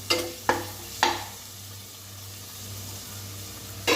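Ginger garlic paste frying in hot oil with star anise, cinnamon and cloves, a steady low sizzle broken by several sharp stirring scrapes near the start and again at the end.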